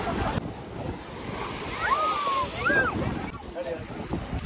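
Sea waves rise and wash against the shore at Haji Ali Dargah in Mumbai, a steady roar of surf mixed with gusting wind noise, with faint voices and a few thin high calls drifting through the background.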